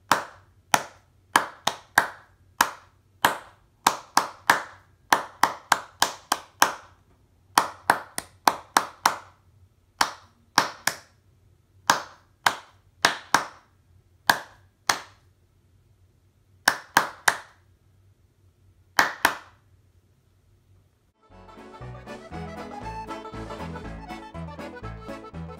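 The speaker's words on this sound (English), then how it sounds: "We're clapping each of the rhythms twice." Hands clap out short musical rhythm patterns with crisp, close, separate claps grouped in repeated phrases and brief pauses, followed at the end by a few seconds of soft instrumental music.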